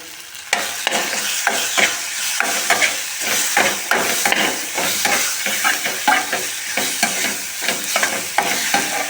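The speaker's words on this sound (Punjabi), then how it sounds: "ਹੁਣ ਅਸੀਂ ਇਹਨੂੰ ਚੰਗੀ ਤਰ੍ਹਾਂ ਨਾਲ ਮਿਕਸ ਕਰ ਦਿੰਦੇ ਆ ਤੜਕੇ ਨੂੰ" Spice tempering stirred and fried in a pan for tomato-sauce masala Maggi, a steady loud sizzle broken by quick rhythmic scrapes and taps of the spoon against the pan, close up with no talking.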